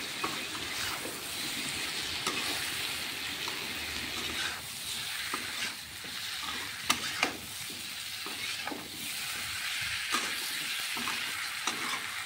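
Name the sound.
stirring chicken in a pan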